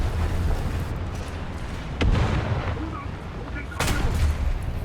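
An M41A1 tank cannon fires in War Thunder: two loud, booming blasts about two seconds apart ring out over a steady low engine rumble and battlefield noise.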